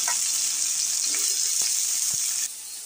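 Potatoes hit hot oil in a kadai tempered with dried red chili and cumin, giving a loud, steady hissing sizzle with a few soft stirring clinks, easing slightly at the end.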